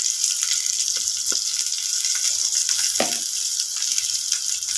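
Onions frying with black urad dal, chana dal and cumin in a pan: a constant bright hiss of sizzling oil, with a few soft scrapes of stirring over it and no talking.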